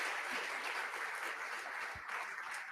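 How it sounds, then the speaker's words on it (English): A crowd at the Global HYPE Competition finals in Rio in 2016 claps in a continuous, fairly distant and faint patter that runs evenly throughout. "Shall we clap for Rio de Janeiro?"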